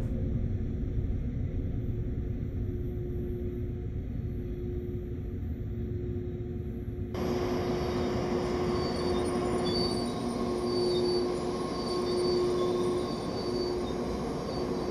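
A train in Train Sim World on the Main Spessart Bahn between Aschaffenburg and Gemünden brakes to a stop: a steady, loud rolling rumble with a sustained metallic squeal that brightens about halfway through.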